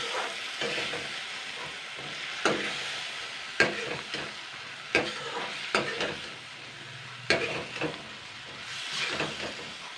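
Papaya curry with spices cooks over medium heat in a pan, a low steady sizzle punctuated by repeated scraping and knocking strokes of a spatula, close but fairly quiet.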